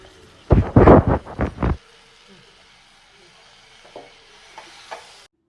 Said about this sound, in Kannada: ಚೆನ್ನಾಗಿ ತೊಳೆದಿಟ್ಕೊಂಡಿರೋಂಥ ನುಗ್ಗೆ ಸೊಪ್ಪನ್ನ ಹಾಕ್ಕೊಂಡು ಚೆನ್ನಾಗಿ ಫ್ರೈ ಮಾಡ್ಕೊಬೇಕು